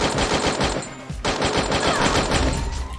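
Rapid automatic gunfire from the Free Fire shooter game bursts almost continuously, loud and close, with a brief gap near the one-second mark and no speech.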